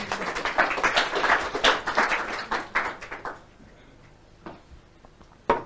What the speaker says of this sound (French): on les applaudit quand même un petit peu